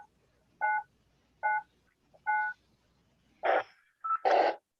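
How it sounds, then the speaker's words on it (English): DTMF keypad tones from a Yaesu FT2 handheld radio, five short beeps in sequence, evenly spaced at first and then slightly louder and longer, heard alone without talk. "I hear 4 distinct tones."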